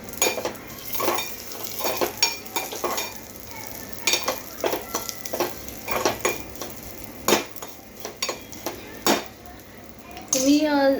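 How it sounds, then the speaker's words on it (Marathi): Cashews, almonds and raisins are stirred while roasting in a pan on a low gas flame, a soft sizzle under repeated scraping and clinks of a spoon against the pan, close by. "काजू आणि बेदाणे आपण घेतलेले आहेत ते छान असं मस्त भाजून घ्यायचं।"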